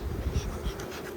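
Honey bees buzz in a close, continuous hum, a brief steady swarm sound with no talking.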